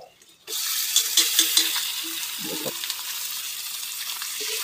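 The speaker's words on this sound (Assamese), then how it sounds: "যিটোকে পিঁয়াজ সিজি গ'ল আৰু এতিয়া দি দিয়া হ'ব মাংস" Meat is dropped into a pan of fried onions. After a brief quiet start it sets off a sudden loud, close sizzle that carries on steadily, with a few soft clinks and stirring knocks on top.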